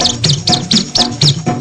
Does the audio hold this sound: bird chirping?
yes